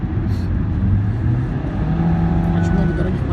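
Continuous car and road noise on a busy Dubai highway, a Camaro driving ahead in traffic, with a steady engine drone and a slight rising whine near the end, voices chatting over it.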